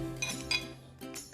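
A spoon stirs coriander into guacamole in a bowl, giving a few light clinks and taps against the bowl. The sound is close but soft and brief, with no voices.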